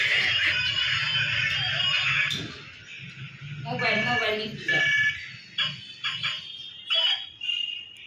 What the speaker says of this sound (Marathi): फोन आहे तुझा. फोन आहे तुझ्यासाठी.